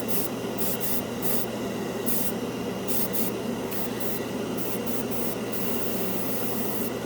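An airbrush sprays cheap one-dollar craft store acrylic paint onto a scale model, a steady close hiss broken by short bursts and pauses as the trigger is worked.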